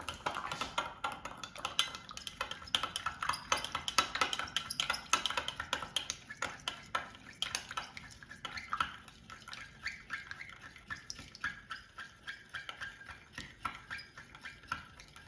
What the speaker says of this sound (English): And I will mix everything together.